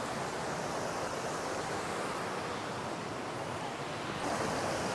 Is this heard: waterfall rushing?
yes